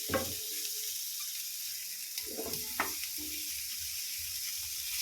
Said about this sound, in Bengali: এটা একদম স্লো গ্যাসে ধীরে ধীরে ভাজা হবে, শক্ত হবে